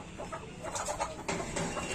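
Hens in a backyard coop cluck softly while pecking at pieces of roti and tulsi leaves, with scattered faint calls and quiet scratching at a modest distance.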